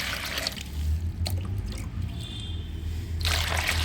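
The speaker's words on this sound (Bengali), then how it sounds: "এই যে পেঁয়াজের খোসায় জল দিয়ে দিলাম" Water pouring and trickling onto onion peels in a container, a steady close liquid splash that runs throughout and swells at the start and end.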